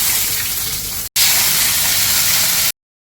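Washed dried red chillies and curry leaves hit hot oil with a loud, continuous hissing splutter that cuts out briefly, surges again and then stops abruptly.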